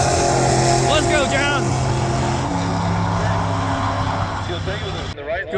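Drag race cars at a heads-up drag racing event roar down the strip in a sustained, loud engine blare whose pitch shifts as they accelerate, while a voice talks over the noise.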